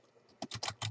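Keys clack on a computer keyboard as a name is typed in, a few quick bursts of close, crisp tapping after a quiet start.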